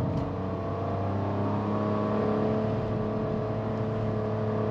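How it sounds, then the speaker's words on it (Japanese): Suzuki Wagon R Smile kei car engine heard from inside while driving, a steady moderate drone with low hum and no straining whine, fairly quiet throughout. "エンジンサウンドはするんですが、金切り声を上げるような悲鳴のようなノイズが入ってくるわけではありません"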